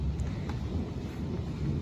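Thunder from a lightning storm rumbles as a continuous low, heavy roll, fairly loud and close, filling the moment without a break and with no voices.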